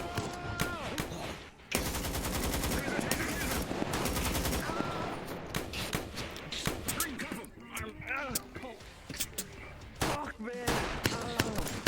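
Gunfire in a VR roleplay game, rapid bursts and scattered single shots cracking repeatedly around a tense confrontation, with several voices shouting and talking over the shooting.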